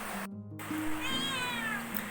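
A house cat gives a short meow, faint and thin, against a steady background hum and tonal electronic noise.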